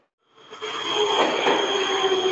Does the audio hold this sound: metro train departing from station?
yes